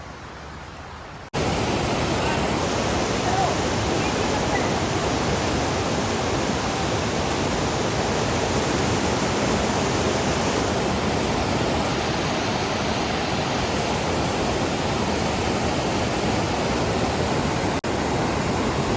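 A rushing river in Manali roars as a steady, loud, broadband torrent, continuous and close after a brief quiet start, with no voices over it.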